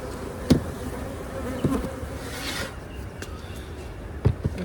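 Honey bees hum steadily around an open beehive during a spring inspection, a dense close buzz with a few soft knocks from handling the hive.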